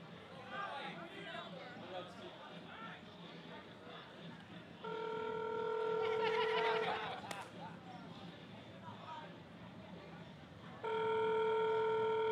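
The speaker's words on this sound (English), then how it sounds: "Come on. Answer the phone." A telephone ring tone sounds in two clear bursts, repeating while waiting for an answer, amid a noisy crowd at a charity bikers' event with people talking nearby.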